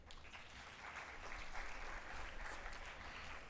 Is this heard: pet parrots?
no